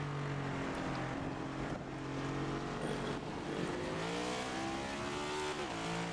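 Stock cars racing through turns in a Next Gen series race, engines droning and rising in pitch as throttle is applied, a loud, steady roar of several cars with shifting revs.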